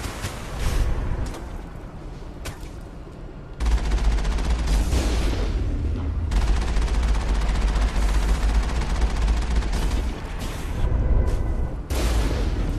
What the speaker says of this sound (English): There's another one shooting at me from across the way.